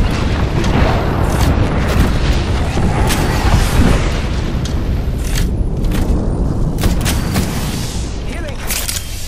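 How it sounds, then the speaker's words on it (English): Airstrike explosions in a fast-paced battle royale shooter game, heavy continuous booming blasts and rumbling fire filling the whole stretch at close, loud level, with voices talking over the din. "Yo, we got an airstrike coming down."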